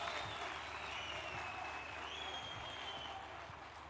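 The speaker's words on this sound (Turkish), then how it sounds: "Büyük alkışlarla lütfen." Crowd at the unveiling of Turkey's domestic TOGG car applauding the president, a faint, distant wash of clapping with a thin tonal whistle-like line drifting above it.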